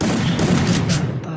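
Dense, rapid gunfire in a shooting video game as the player tries for headshots: a steady, loud run of overlapping shots with booming bursts, filling the moment without a pause.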